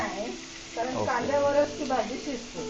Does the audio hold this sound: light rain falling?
no